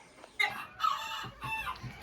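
Roosters out in the sun on a farm, giving several bursts of crowing and clucking across a couple of seconds, fairly close and lively, with no talk.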